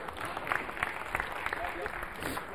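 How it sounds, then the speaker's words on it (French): Audience applause at a public-speaking conference, a steady wash of many hands clapping at moderate distance, fairly soft and sustained throughout. "On peut l'applaudir s'il vous plaît?"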